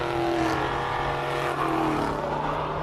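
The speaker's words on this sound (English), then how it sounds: "One of the Porsches running up the hill now, and followed by the Lotus." A classic Porsche race car charges up a hillclimb course at a classic car event, its engine a loud, sustained roar heard nearby as it climbs, with no break in the sound.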